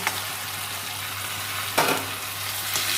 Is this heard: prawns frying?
yes